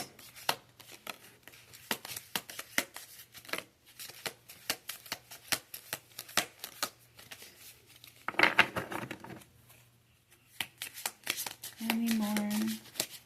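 Oracle cards being shuffled during a reading, a long run of quick crisp riffling flicks and card slaps, fairly close, with brief bursts of speech and a short hum near the end.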